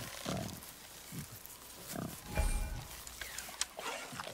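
A wild boar in the video game God of War grunts in a few low, rough bursts. Softer background noise runs underneath, and there is no clear speech.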